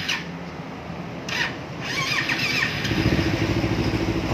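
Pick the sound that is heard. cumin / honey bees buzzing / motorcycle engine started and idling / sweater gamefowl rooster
motorcycle engine started and idling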